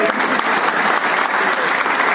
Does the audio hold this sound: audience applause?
yes